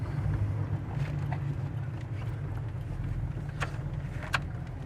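A 1975 Chevrolet Nova on the road, its engine giving a steady low drone with faint rattles and clicks from the cabin, heard close and continuous with no talking.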